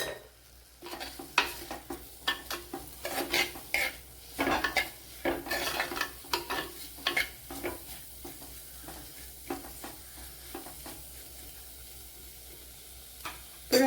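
Sautéing in a pan for a sardine fish curry: soft sizzling beneath frequent scraping strokes of a spatula and light clinks against the pan, with a loud knock at the very end.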